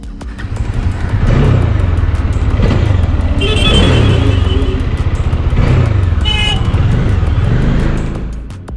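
A Bajaj Dominar 400 motorcycle on the road, its engine droning steadily underneath with rising and falling revs and shifts, heard from the rider's position, accompanied by wind and passing traffic.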